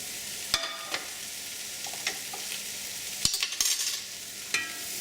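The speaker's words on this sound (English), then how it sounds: "we're going to fry this in this oil" Onions fry in oil in a pan for a Korean spicy beef soup while someone stirs them. A quiet, steady sizzle is broken by scattered scrapes and clicks from the stirring.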